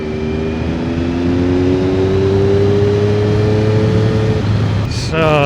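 A 2001 Triumph Daytona 955i motorcycle engine pulls hard under acceleration on a rough road, one loud, continuous rising drone close to the microphone, with a brief shift in tone near the end.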